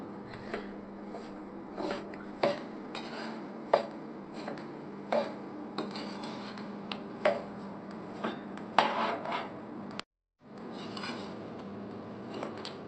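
Semolina (rava) roasting in a pan on the stove, stirred with a spatula: a soft, steady dry rustle with regular light scraping taps against the pan, close and fairly quiet, with a brief pause near the end.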